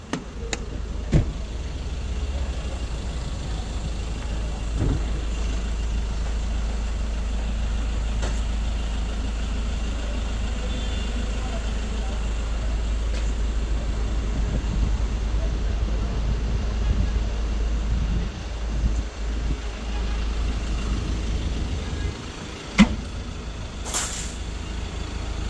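A 2017 Ford Ranger engine idles steadily with a constant low rumble throughout, joined by a few brief knocks and clicks near the end.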